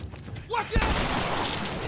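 Gunshots in The Last of Us Remastered: a sharp close shot lands mid-way with a roaring burst and a ringing tail, following a short vocal sound amid rough background noise.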